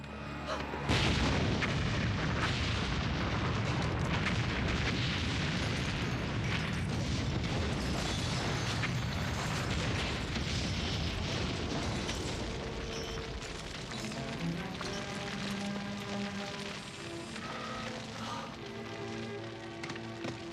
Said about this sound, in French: Il y a une bombe.